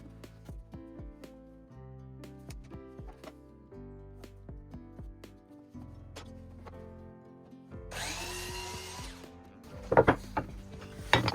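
A power drill with a 1.5 inch bit bores into a wooden birdhouse board, a loud grinding burst near the end after tonal clicks and knocks.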